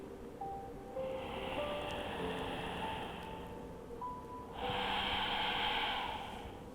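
A slow, deep, three-part belly breath: a long audible inhale, then a brief pause and a fuller, longer exhale, close and clear over soft, sustained background music tones.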